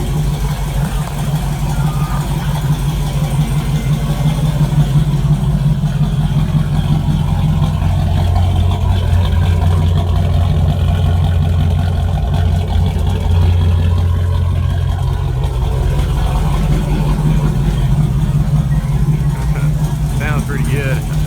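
An LQ4 V8 with a TSP stage 2 cam and a 3-inch muffler idles close by, with a deep, loping, steady rumble and a bad exhaust leak near the catalytic converter. Someone talks over it.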